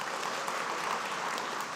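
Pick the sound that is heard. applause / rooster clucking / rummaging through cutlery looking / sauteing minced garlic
applause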